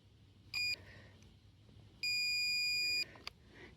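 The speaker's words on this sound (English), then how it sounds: "you hold down the trigger until there is a second long beep and then the blades are locked" ANBULL electric pruning shears give a short beep and then a long, steady beep of about a second as the blades lock, loud and close, with faint clicks and handling noise between.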